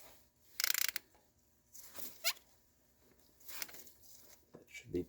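A ratchet snugs a bolt on a third-generation Toyota 4Runner engine during a timing belt job, with short clicking bursts spaced apart, faint and close, with quiet talk between.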